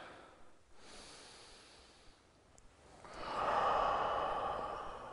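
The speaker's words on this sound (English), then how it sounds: "We're gonna do two more breaths." Slow, deep breathing during a beginner hip-flexibility stretching workout: a soft exhale, a quiet pause, then a fuller, louder breath swelling near the end, close and without speech.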